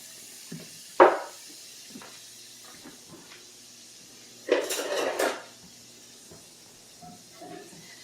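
Cooked sausage pieces moved from a pan into a bowl in a quiet kitchen, a sharp clink, soft scattered taps, then a brief rattling scrape and a few faint knocks.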